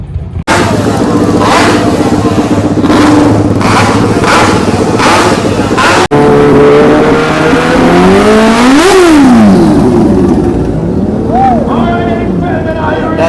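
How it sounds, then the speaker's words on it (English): Supercharged car engine at a drag meet, revving hard and loud with rising and falling whine sweeps over dense engine roar and crowd noise, voices audible in the background throughout. "That's a supercharger. That's how it sounds."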